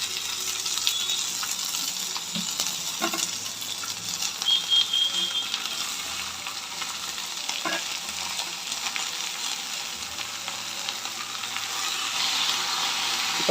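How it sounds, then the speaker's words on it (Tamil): Amaranth stem greens go into a pan of sautéed onions and fry with a steady, dense hiss throughout, broken by occasional soft knocks of a spoon, with no voices. "இப்போ நம்ம கீரையை போட்டுக்கலாம்."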